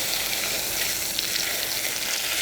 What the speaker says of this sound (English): Oh, nice and sizzle. Pan is nice and hot.